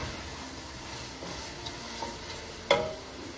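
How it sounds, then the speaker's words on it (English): Minced garlic sautéing in a pot for a vegan potato mushroom soup, a quiet continuous sizzle with faint stirring scrapes and one sharp utensil tap near the end. "Just wanna keep on giving this a stir."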